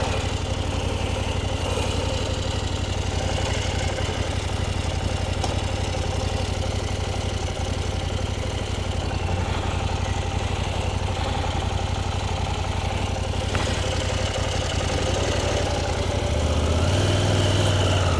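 A KTM 790 Adventure motorcycle engine idles steadily close by, with a continuous low throbbing rumble and mechanical clatter that swells slightly near the end.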